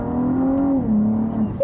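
A Cadillac ATS-V engine revs and pulls away close by, a smooth rising whine with a quick gear change, loud and fairly steady before tailing off.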